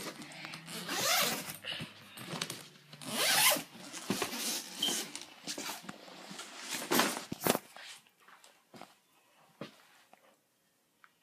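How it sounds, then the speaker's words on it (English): Repeated zipper pulls, rasping bursts that come in quick strokes, close by and fairly loud, fading into small rustles toward the end. "let me find the zipper"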